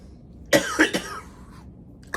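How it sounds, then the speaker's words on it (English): A couple of harsh, dry coughs close to the mic, followed a moment later by one more short cough. "dry air is giving me this bad cough"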